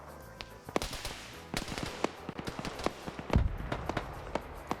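Mortar fire in a military strategy game pounds hilltop positions, a rapid scatter of faint, sharp popping blasts and thuds spread unevenly across the stretch, with one heavier low boom near the end.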